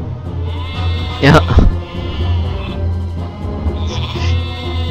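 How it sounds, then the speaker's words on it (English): Sheep bleat in the video game Warcraft 3, one loud bleat near the start and a fainter one later, over steady game music and ambience while a person talks. "Sheep in the way!"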